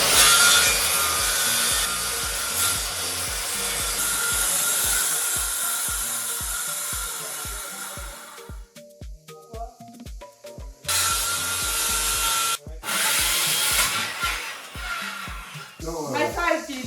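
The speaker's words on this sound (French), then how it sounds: "Donc voilà, il faut poncer les bords." Wooden boards being hand-sanded along their edges while building a wooden tack-room cabinet, a loud, steady rhythmic rasping of strokes that breaks off briefly twice before resuming, close to the microphone.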